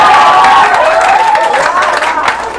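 An audience claps steadily at a Teachers Day celebration with stand-up comedy, producing a dense, continuous patter with crowd murmur mixed in throughout.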